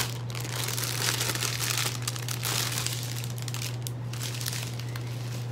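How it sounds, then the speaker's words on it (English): Crinkly plastic packaging bags are torn and opened close up, producing bursts of rustling and crackling that rise and fall over several seconds against a low steady hum. "shield your ears for crinkly plastic"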